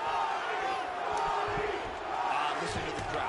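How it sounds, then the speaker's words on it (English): Arena crowd noise from the UFC 2 video game, a dense, steady roar of cheering spectators that swells slightly near the end and sits loud and continuous throughout. "Listen to the crowd. They love the big one."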